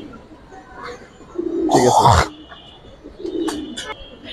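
High-quality coloured Giribaz pigeons coo softly at a seller's place in Lalbagh, low murmuring calls with a brief burst of fluttering or handling noise, while someone talks over them.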